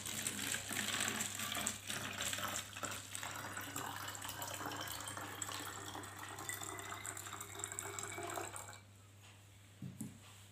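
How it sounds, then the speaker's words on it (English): Water pouring steadily into a bottle for a classroom science demonstration, a continuous splashing fill running for about nine seconds before it stops, with a low steady hum underneath. "Now keep the glass ball and remove the cap and fill the bottle with water."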